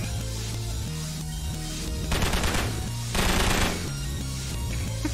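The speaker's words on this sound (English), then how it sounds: "He just shot me," Rapid bursts of gunfire from the Pokémon Wack video game, two loud volleys of shots rattling out over a steady bed of game music.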